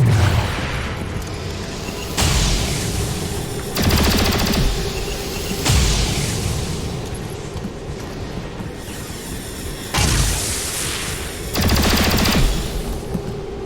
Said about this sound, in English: It just ate a full barrage of Overwatch, and it's still flying.